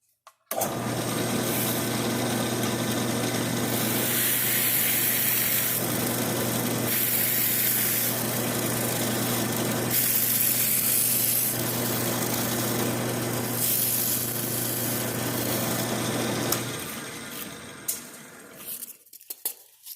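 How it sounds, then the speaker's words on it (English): A power drill whines steadily for most of the clip, surging and easing in several bursts as it bites into wood for a motor mount, then stops, followed by a few light knocks. "I'm going to go ahead and drill in, remove some of the chips"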